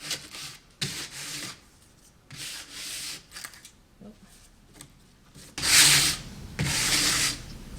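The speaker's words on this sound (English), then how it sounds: "I'm going to just give it a light sand with my 180 grit" Hand sanding of a damaged timber front door with 180 grit sandpaper: repeated broadband scratchy strokes in irregular bursts, close and moderately loud, the last two passes strongest.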